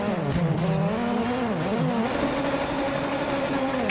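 Hyundai i20 WRC rally car driving flat out on a stage, engine loud and close with revs climbing and dipping through gear changes, steady roar throughout with a brief tyre scrub.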